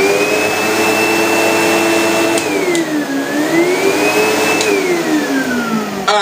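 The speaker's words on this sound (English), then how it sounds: "so let's get the vacuum cleaner" An apartment vacuum cleaner runs steadily and loud, its motor whine dipping and rising in pitch as the hose moves, with a few small clicks and bumps.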